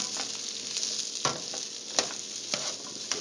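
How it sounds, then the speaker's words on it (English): Frying food sizzles steadily in hot oil while a ladle stirs it for Rogan Josh curry, sharp scraping clinks of the ladle against the pan punctuating the constant hiss every half second or so, close and fairly loud. "I'm going to get my ladle. I'm just going to stir it around a little bit."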